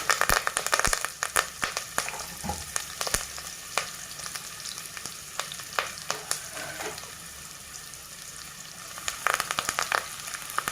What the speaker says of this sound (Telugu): కరివేపాకు కొంచెం వేస్తాము